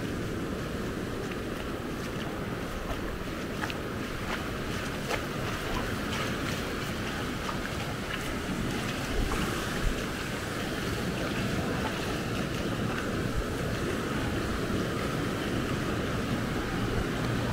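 A municipal vehicle flattens and rakes the sand on the beach at Maspalomas, Gran Canaria, its steady rumble heard from a distance under constant wind and surf, with no one speaking.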